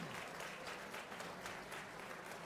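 Applause at a high school awards and Hall of Fame dinner in 2023, a soft, even patter of many hands clapping, fairly distant and quiet throughout.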